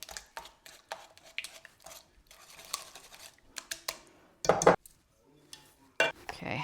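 Cake batter being stirred with cocoa powder mixed in, close scraping and clinking of a utensil against the bowl in irregular strokes, with a few louder knocks and scrapes.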